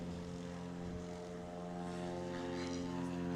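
Propeller engine of a STOL light aircraft on its takeoff roll at an airshow, a steady loud droning hum with strong tonal harmonics, close and continuous with no talk.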